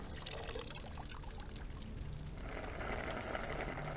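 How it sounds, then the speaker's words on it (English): Water pours into a pot in the hidden-object game Haunted Hotel 5: Eclipse, a soft continuous splashing stream that thickens and grows slightly louder toward the end, faint and close. "And I'm putting water in the pot."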